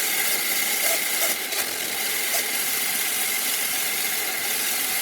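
Lego Lenco four-speed transmission gears spinning fast in fourth gear, giving a steady, close mechanical whir with a faint ratcheting clicking running evenly throughout.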